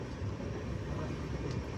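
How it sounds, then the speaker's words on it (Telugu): Another train rumbles past in a steady low roar on the approach to Gudur station, heard from aboard the Howrah to Kanyakumari Superfast Express, loud and close throughout. "గూడూరు స్టేషన్కి ఎంటర్ అవుతుంటే ఈ ట్రైన్ అయితే క్రాసింగ్ పడింది మనకి"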